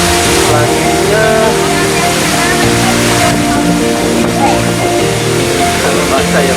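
Air Terjun Pelangi, a waterfall, roars steadily and loudly throughout. A voice and other voices talk over the rush of water.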